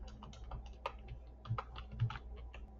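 Soft, steady typing on a computer keyboard while entering a name into a Canva design, a quick run of light key taps with a couple of firmer strokes, close up and alone with no voices.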